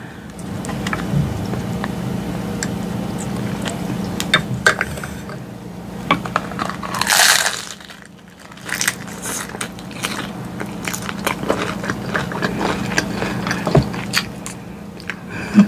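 Close, crisp biting and chewing of a homemade fish taco, with repeated crunches and soft squishy mouth sounds over a steady low background hum, no talking during the chewing.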